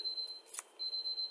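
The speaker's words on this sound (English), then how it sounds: "That's the timer." A timer gives off a steady high electronic beep in a quiet courthouse waiting area, sounding almost continuously with one short gap near the middle.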